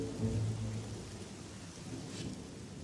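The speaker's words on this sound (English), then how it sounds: "rain has moved in" Steady rain falls at a driver training facility, a dense even hiss of drops with a low rumble of thunder early on, continuous and fairly loud throughout.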